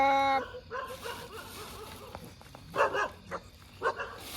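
A dog nearby lets out several sharp barks and short yips in uneven bursts, after a brief tonal sound at the start.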